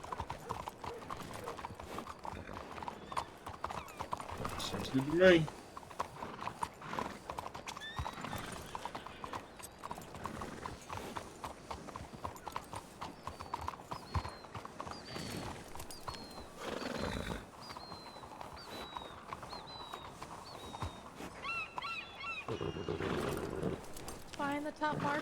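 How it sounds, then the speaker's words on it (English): A horse clip-clops along steadily with occasional neighs and whinnies, the hoofbeats running through the whole stretch under ongoing conversation between people. "Yeah, I'm gonna take my horse."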